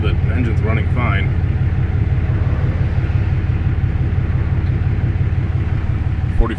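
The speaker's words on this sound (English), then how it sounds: "the engine's running fine" A 2016 Cummins 3500 diesel engine runs at a steady idle just after an oil change and fuel filter swap, a continuous low throbbing rumble under a brief voice near the start.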